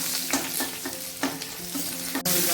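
Whole garlic cloves fry in mustard oil in a wok, giving a steady close sizzle broken by several sharp scrapes and clinks of a spatula stirring through the pan.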